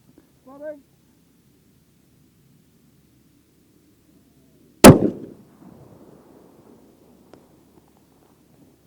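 A single loud, sharp crack from a Ruger RPR bolt-action rifle in .338 Lapua Magnum fired at an outdoor long-range steel target, standing alone in quiet air with a brief echo trailing off.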